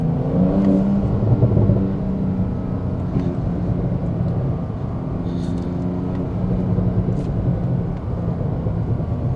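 A Porsche 911 Turbo S engine accelerates in manual mode through a 40 zone, with a steady rising drone and a few brief, sharp exhaust pops and crackles scattered through.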